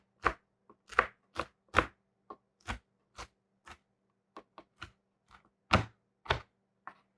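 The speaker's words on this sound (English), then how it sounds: "So we got our bacon. Go do a rough chop on it." A knife rough-chops bacon on a cutting board, about fifteen sharp separate chops coming in uneven bursts and pauses, close and fairly quiet, with no talking.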